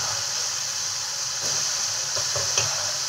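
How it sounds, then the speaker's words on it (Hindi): Fasting-style namkeen frying in well-heated oil, a steady close hiss of bubbling with a few soft stirring knocks near the end. "ऑयल को हम अच्छा ही गरम लेंगे, कम गरम होगा तो ये अच्छे से फ्राई नहीं हो पाएंगे।"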